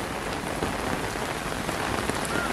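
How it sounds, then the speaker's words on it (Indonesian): Sudden heavy rain pours steadily, a dense, constant hiss of drops beating on surfaces nearby with no breaks, during the Mid-Autumn Festival in Causeway Bay, Hong Kong. "Karena hujannya itu tiba-tiba banget, hujan deras gitu ya."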